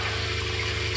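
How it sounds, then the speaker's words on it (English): RV toilet in a 2021 Isata 5 28ss motorhome flushing, a steady rushing gush of water with a low pump hum underneath, close and continuous with no talk. "Or if you want to empty the whole toilet, after it's done, you push both buttons here"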